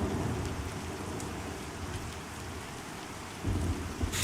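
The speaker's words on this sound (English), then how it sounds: "I'm going to leave you guys here for a second with the glorious sounds of rain and the denizens of Demeth" Steady rain falls in the video game Pantheon, a dense, even hiss with low rumbling beneath and a brief swell near the end, no voices.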